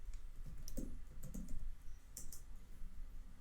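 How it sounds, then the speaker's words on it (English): Someone types a domain name on a computer keyboard: a short, quiet run of soft key clicks in a few small clusters, with no voices. "here I will type in my domain name"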